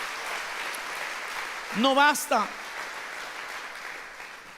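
A church congregation claps steadily through the whole stretch, a broad wash of applause that a man's short spoken phrase briefly cuts over near the middle.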